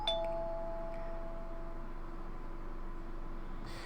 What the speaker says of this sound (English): And then the doorbell rang again.